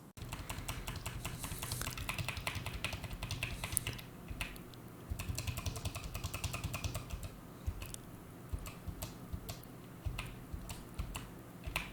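Computer keyboard keys tapped in rapid, irregular clusters as Control and arrow keys are pressed repeatedly, close and clear against a quiet room hum, with brief pauses between bursts.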